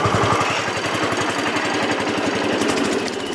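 An Allis Chalmers 310 garden tractor engine runs steadily on a test drive, giving a loud, close, rapid chugging putter with an even pulse throughout and no speech.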